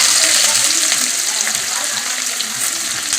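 Steady, loud sizzling of chopped onions frying in hot oil, a continuous crackling hiss throughout.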